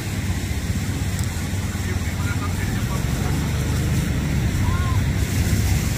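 Sea waves roll in a steady, continuous low roar of surf at the shore, where swimmers jump into the water, and the wash stays even and loud throughout.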